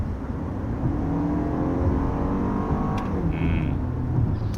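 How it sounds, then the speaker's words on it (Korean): The gasoline engine of a Lexus LM 500h minivan revs upward steadily under kickdown acceleration, heard from inside the car as a constant droning roar with road noise. "킥다운 했을 때 소음 진동도 조금 운전석으로 넘어오는 편이었고요"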